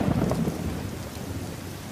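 Thunder rumbles over steady heavy rain in the anime Zombie Land Saga, a loud close crack at the start settling into a continuous downpour with no voices.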